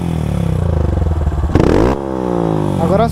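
Honda Start 160 motorcycle fitted with a GRS exhaust, revving loudly and close by in several rising bursts, with a sharper crackling surge in the middle; a voice speaks briefly near the end.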